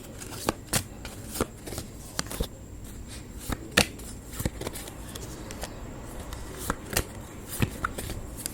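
Tarot cards shuffled and drawn by hand, giving close, quiet riffles and soft flicks with sharp card snaps at irregular intervals, about a dozen crisp slaps over a low steady background.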